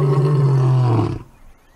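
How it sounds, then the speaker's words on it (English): A lion in a wildlife park gives a deep, loud roar close by, rumbling steadily for about a second before cutting off into quiet. "as soon as lions roar in this park, they all listen"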